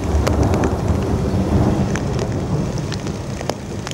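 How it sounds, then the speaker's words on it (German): Steady rain hisses and patters on a surface with a low rolling rumble of thunder underneath, loud and continuous with no voices. "Unterwegs wieder ein kleiner Regenschauer."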